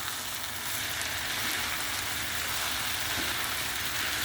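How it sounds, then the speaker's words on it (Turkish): Tomatoes with black pepper and chili flakes frying in a pan give a dense, continuous sizzling hiss that holds steady throughout, close and fairly loud, with no voices. "Karıştırıyorum."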